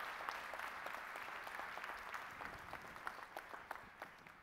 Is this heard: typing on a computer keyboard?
no